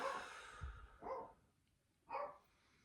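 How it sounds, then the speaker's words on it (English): A dog barks three times with pauses between, fairly close and moderately loud in an otherwise quiet room. "barking dog because I have no control over her"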